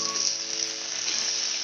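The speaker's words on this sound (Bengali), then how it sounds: "এগুলোকে একটুখানি ফ্রাই করার মধ্যে ওয়েট করবো" Chopped tomato and capsicum frying in a pan for a Bengali-style chicken paratha, giving a steady, close hiss of sizzling that holds evenly throughout with no talking.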